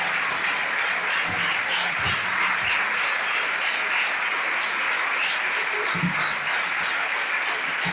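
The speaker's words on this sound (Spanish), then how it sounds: "Le regalas un nuevo aplauso al Señor," Applause from a church congregation offering praise, a steady dense wash of clapping that holds evenly throughout with a few low thumps and no clear talk over it.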